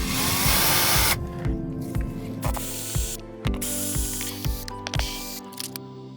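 Vinyl house shutters being removed from their screw mounts with a power driver, a spraying hiss at first, then a steady run of evenly spaced ratcheting clicks, close and fairly loud.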